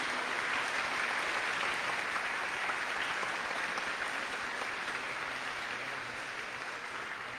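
Steady, dense applause from an audience at the close of a philosophy symposium on artificial intelligence, a continuous roar of clapping that stays loud for the whole stretch and fades only slightly toward the end.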